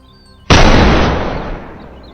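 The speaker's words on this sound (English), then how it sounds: "Gunfire echoed from somewhere in the forest" A single loud gunshot cracks in a forest in New South Wales during a wild boar hunt, its boom rolling out and decaying slowly as it echoes through the trees.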